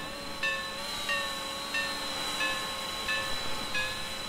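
Bell of a steam-powered locomotive in the Trainz 2019 simulator: a steady series of about six evenly spaced, ringing strikes, moderately loud over the low rumble of a running engine.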